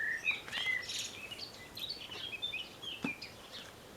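Several songbirds sing outdoors, with bright repeated chirps and short whistled phrases spread across four seconds, fairly faint over a quiet background.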